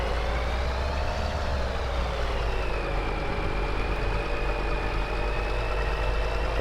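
A farm truck engine in Farming Simulator 22, a steady droning hum with a slowly shifting pitch as it idles and drives, heard alone without talk.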